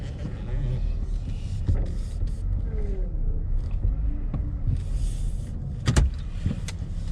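A 2017 Chevrolet Traverse LT, recently arrived from auction, backs out with a low engine rumble and interior road hum, with occasional clicks and knocks, while someone talks inside the cabin.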